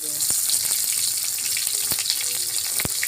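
Onions fry in a generous pool of oil for a pumpkin chicken curry, a continuous near sizzle with scattered scraping clicks of a utensil and no talking.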